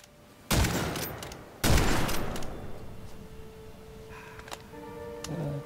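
Two loud, close gun blasts in the first-person shooter Witchfire, each trailing off in a long rumbling echo, followed by quieter mechanical ticks and clicks, likely reloading.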